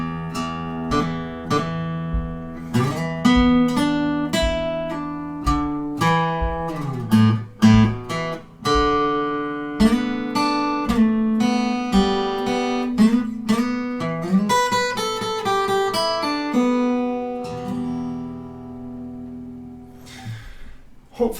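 Guitar playing a riff, a clear solo run of plucked notes with pull-offs and ringing open strings, close and alone for about twenty seconds.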